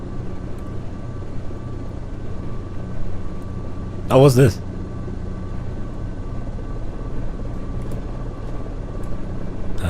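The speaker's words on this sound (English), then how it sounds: "Never mind the helicopter going on its own back there." Helicopter in the Quake 2 video game, a steady low rotor drone running continuously in the background of the game audio, with someone briefly talking over it.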